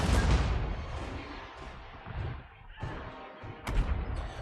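Massed gunnery artillery fire from Total War Warhammer battle lines, a dense rumbling barrage of booms and crashes with a sharper cannon crack near the end, loud and continuous.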